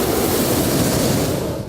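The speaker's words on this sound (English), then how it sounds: "That is the sound of a hot air balloon starting to take flight." Hot air balloon burner firing as the balloon begins to lift off outdoors in snowy, chilly weather: a loud, steady, broadband roaring rush that continues throughout with no talk.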